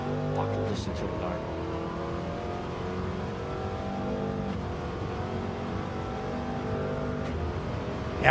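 A De Tomaso Mangusta's engine in Gran Turismo 7 revving steadily through its gears, a continuous mid-level motor drone under a talking voice.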